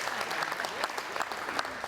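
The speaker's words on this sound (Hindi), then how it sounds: "तो ताली से उन लोगों के स्वागत करे जा" A theatre audience claps to welcome a dance group, a brief burst of fairly quiet, steady applause with no voices standing out.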